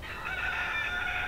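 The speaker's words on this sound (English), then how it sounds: "That rooster is confused." A rooster crows at an odd early-night hour in Eleuthera, one sustained harmonic call heard close and loud with wind in the background.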